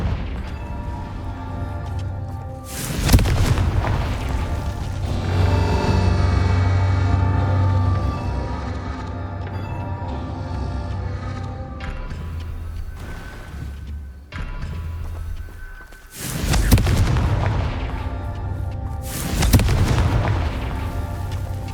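Confringo fire-spell blasts in the game Hogwarts Legacy: loud booming explosions, one near the start and two more toward the end, with a rumbling, crackling game soundscape between them and no talk.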